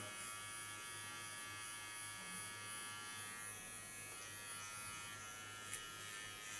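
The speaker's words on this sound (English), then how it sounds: "go over to my small clipper" A small electric hair clipper buzzes steadily and close up during a haircut, a continuous even hum with no breaks and no talking.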